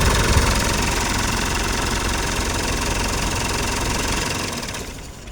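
An engine runs at a steady, busy idle with a knocking, mechanical clatter, then fades and drops away near the end as it is switched off.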